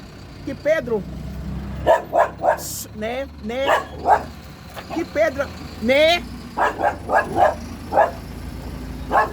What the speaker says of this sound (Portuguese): é meu cachorro, gente